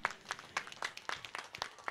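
Spectators clapping at a village cricket final, a short burst of scattered, uneven hand claps heard at a moderate distance, thin rather than a full roaring ovation.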